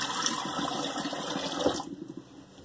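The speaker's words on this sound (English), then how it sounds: "Let me do another cold water rinse." Cold rinse water running from a bathroom tap during a wet shave, a steady close splashing rush that stops abruptly near the end, leaving a quiet room.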